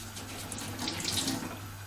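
A tap runs a thin stream of water to wet a small sponge for cleaning a copper bowl before enamelling, a steady, quiet splashing with no talk.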